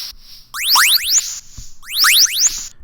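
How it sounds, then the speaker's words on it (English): A synth lead preset called Vandalism Lead Alien, used for an electronic dance drop melody, plays two phrases of rapid rising and falling pitch-bent chirps, loud and alone, with a short gap between them. "It's Vandalism Lead Alien."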